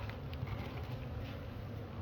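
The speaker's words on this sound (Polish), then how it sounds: "Tutaj tyle pszczół" Honeybees swarm at a hive entrance, a dense, steady buzzing hum of many insects close by, continuous and without talk.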